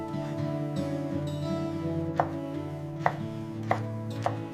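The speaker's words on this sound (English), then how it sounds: "Mincing a few shiitake mushrooms for deep flavor." A knife minces shiitake mushrooms on a cutting board for meatball filling, giving four sharp, distinct chops spaced about a second apart over a steady low kitchen hum, close and clear with no voices.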